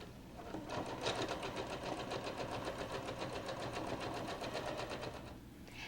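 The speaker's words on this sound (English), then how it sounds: "All you're going to do is sew two pieces of fabric together" A sewing machine runs a basting stitch through two pieces of fabric, a steady rapid mechanical rattle for about five seconds, close and fairly quiet, with no talking.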